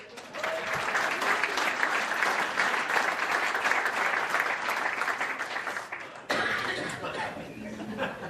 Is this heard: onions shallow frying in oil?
no